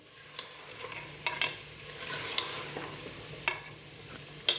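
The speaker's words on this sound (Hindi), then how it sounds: "ये डालकर भी 1-2 मिनट तक भूनेंगे, ताकि आलू भी अच्छी तरह थोड़े से ना फ्राई हो जाएं" Potatoes and mutton for a Pakistani-style aloo gosht fry in a pan: a soft, steady sizzle with scattered scraping clicks from stirring, fairly quiet and with no voices.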